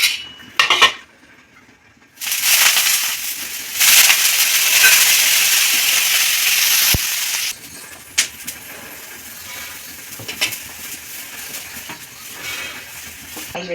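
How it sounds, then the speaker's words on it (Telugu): Ragi dosa batter hits a hot pan and sizzles loudly with a broad, steady hiss that holds for several seconds and then fades to quieter crackling, with a few clinks of utensils. "ఇప్పుడు ఇంకొక దోశ వేసుకున్నాం."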